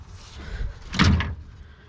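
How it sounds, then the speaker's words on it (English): A 2002 MCI D4500 bus door, its latch freshly cleaned, swings shut with a single firm, close thud and brief rattle, set against low background rumble. "now this door works like a charm. So I'll go ahead and close it."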